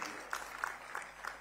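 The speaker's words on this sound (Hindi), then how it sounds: "जोरदार ताली बजाओ श्रीमान विष्णुदेव साय जी के लिए" Audience applause at a Chhattisgarh state foundation day event, a faint, steady patter of many hands with a few louder bursts of claps recurring about every third of a second, heard from a distance.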